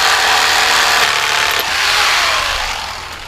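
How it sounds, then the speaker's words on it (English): A cheap old Walmart jigsaw cuts along a marked line during a DIY greenhouse build, giving a loud, steady, close-up buzzing rasp that runs continuously with a slight dip midway and no talk. "to cut this out, I'm just using the old cheap Walmart jigsaw"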